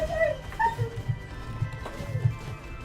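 An excitable pet dog yips, barks and whimpers in short bursts indoors, fairly quiet under game music.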